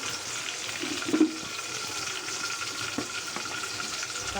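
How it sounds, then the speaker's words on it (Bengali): Ginger, garlic and cumin paste sizzles in hot oil with a steady, fairly faint frying hiss and a few soft stirring knocks. "এখন দিয়ে দিব আদা রসুন বাটা, আদা রসুন জিরা বাটা"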